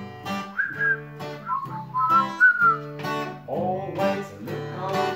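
A person whistles a bouncy song melody live at a small music venue, clear bright tones rising and falling in a continuous tune over soft instrumental backing, with no voices.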